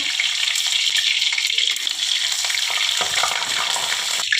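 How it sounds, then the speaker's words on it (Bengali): Bay leaf and whole cumin sizzle in hot mustard oil, a bright, crackling fry hiss that runs steadily and close up for the whole stretch, with no speech. "আমি সর্ষের তেল দিয়ে দিলাম পরিমাণ মতো এই যে একটা তেজপাতা ছিঁড়ে দিলাম গোটা জিরে দিয়ে দিলাম"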